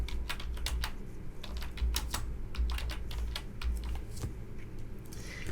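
Rapid, crisp clicks of a computer keyboard as a journal entry number is typed, close and steady over a low constant room hum, with no talking.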